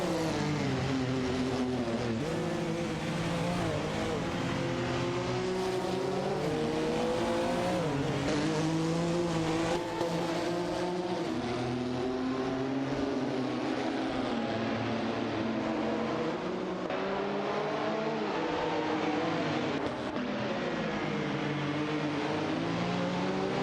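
Race cars battling for position on track in an AI racing video game, a continuous layered drone of several engines rising and falling in pitch as they rev and shift, held at steady loudness with no talk.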